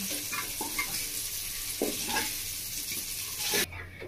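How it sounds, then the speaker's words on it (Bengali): Prawns frying in a pan, a continuous sizzle with intermittent stirring and scraping of the utensil, fairly faint and close, ending with a brief bump and quieter hiss. "চিংড়ি মাছটা আমার ভালো করে ভাজা হয়ে গেছে, তাহলে তুলে নিচ্ছি"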